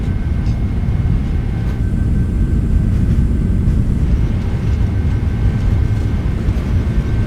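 Boeing 777-200ER with Rolls-Royce engines at takeoff thrust during a night departure from Johannesburg runway 03L in Microsoft Flight Simulator 2020, a loud steady low roar with a faint high whine, continuous throughout.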